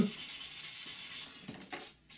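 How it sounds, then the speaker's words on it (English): Soft, steady scratchy rubbing of a sanding sponge over a scale model surface, close up, in continuous back-and-forth strokes. "The sanding sponge gets rid of the scratches made by the sanding stick"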